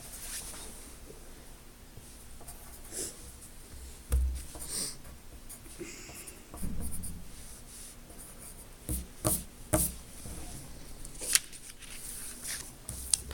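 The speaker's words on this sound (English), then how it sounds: "So now let's write it all down at the bottom." Pencil or pen scratching numbers onto paper during a multiplication lesson with partial products, soft intermittent strokes with a few louder taps, quiet and close with no talking.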